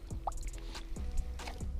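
A caught fish from a Ned rig fishing session is lowered by hand into the water, making a few small, close splashes and drips over a short stretch of quiet.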